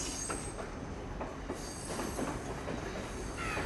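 A train rolls past in Colombo, Sri Lanka, a steady, close rumble of rail noise with faint wheel squeal, continuous throughout with no voices.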